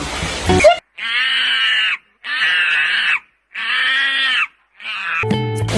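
Children in a Thai kindergarten class imitate a monkey's cry with their voices, four loud shrill chorused calls of about a second each, separated by short pauses, with a teacher's voice before and after.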